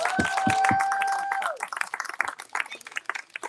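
Clapping from an audience at a community gathering, first under a sustained tone, then breaking into a dense, uneven patter of hands that thins toward the end.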